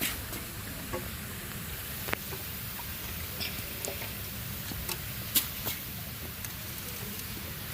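Dried chillies dry roasting in a pan for Sri Lankan-style chilli powder give a faint, steady crackle and patter, with scattered soft pops and stirring scrapes and no talking.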